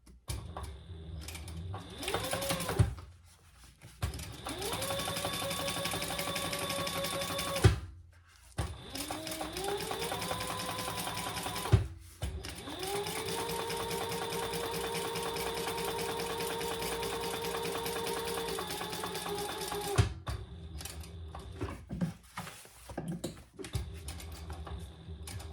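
A sewing machine stitches two rows along a Retro Tec sling in several steady runs, each a few seconds long, with short pauses between them and some handling noise; the machine is close and clear, with no talking.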